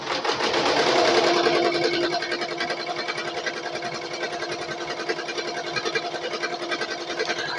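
A Bai Mirror 1501 embroidery machine stitches a design onto denim, giving a steady, fast mechanical whirring patter with a rapid needle rhythm that runs continuously and close, a little louder at the start before settling.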